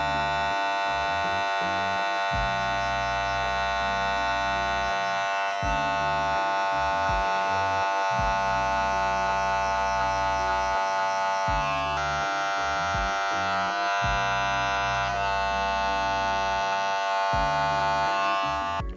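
Electric hair clippers buzz steadily and loudly while blending a fade haircut, the tone dipping and resuming in short pauses as the blade moves along the hairline.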